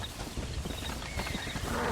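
Horses galloping in the Red Dead Redemption video game, a quick run of muffled hoofbeats over a dense ambient wash, lasting only a couple of seconds.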